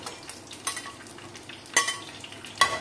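Slit pointed gourd (potol) fries in oil until reddish, a soft background sizzle broken by a few sharp metallic scrapes and clinks of a spatula turning the pieces in the pan, with no talking.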